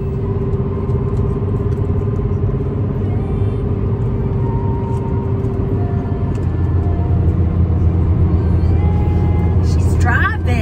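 Steady low engine rumble and road noise from inside a moving car, continuous and fairly loud throughout, with a faint higher hiss near the end.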